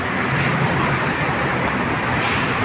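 Steady, dense rumble at the Khu Khot terminal station of the BTS light green skytrain line in Lam Luk Ka, Pathum Thani, a continuous loud wash of rail and traffic noise with no distinct events.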